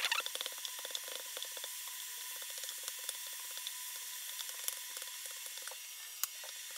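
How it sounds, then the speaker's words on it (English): Beef frying in a pan gives a steady, moderately close sizzle with dense crackling pops and spits, busiest at the start and then settling into an even hiss. "500 grams of beef and fry about like 5 minutes until your beef become brown"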